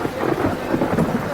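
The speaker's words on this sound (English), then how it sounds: "that lightning gonna bust right on through the roof" Rumbling thunder in a storm with heavy rain, a loud, continuous low roll that fills the whole moment, no voices over it.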